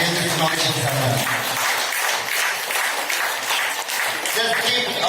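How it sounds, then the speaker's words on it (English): Continuous applause from an audience at a new head office inauguration ceremony, steady and moderately loud throughout, with a faint voice mixed in. "Just keep"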